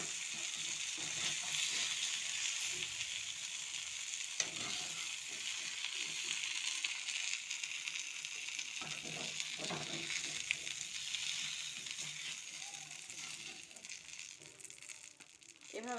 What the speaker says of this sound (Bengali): এভাবে উল্টিয়ে পাল্টিয়ে ভালো করে ভেজে নিতে হবে